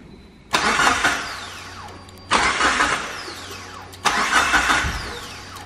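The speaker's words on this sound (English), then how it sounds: "I'm going to do that just by turning it over a couple times without it actually cranking on" A car engine with a newly fitted turbo is cranked over three times without firing to prime it, each loud starter burst running about two seconds before cutting off, close by with no talk.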